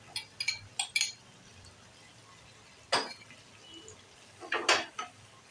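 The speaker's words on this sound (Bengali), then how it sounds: "এখন চিংড়ি মাছ বাটাটা দিয়ে দিচ্ছি" A few scattered metallic clinks and scrapes ring out close by in a quiet kitchen as prawn paste goes into a pan and is stirred, with short bursts separated by pauses.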